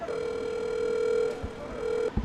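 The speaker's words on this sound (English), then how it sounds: "I'm gonna give him a ring here." A continuous telephone tone sounds steadily for about two seconds during an outgoing phone call, with a faint click near the end.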